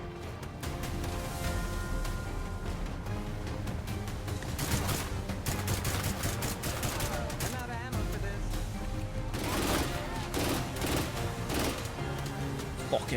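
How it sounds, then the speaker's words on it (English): Rapid gunfire and crashing impacts from the video game State of Decay 2, dense and continuous across the whole stretch, loud bursts stacking over one another with a voice shouting beneath the chaos. "Stop fucking trying to shoot me"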